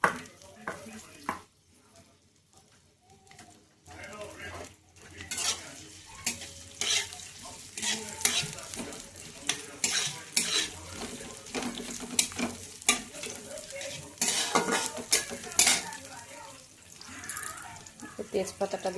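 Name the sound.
onions frying in hot oil until brown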